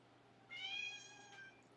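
A female house cat meows once at dinner time in a kitchen, a short, faint, high cry against quiet room noise, with no speech over it.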